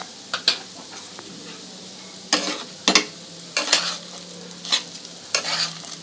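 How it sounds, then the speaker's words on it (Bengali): Rice and chana dal frying with coriander, turmeric and chilli powder in a pan over low-to-medium flame, with a steady soft sizzle broken by several sharp scraping stirs of a spoon against the pan. "মশলা দিয়ে চাল আর ডালটা একটু ভেজে নিতে হবে।"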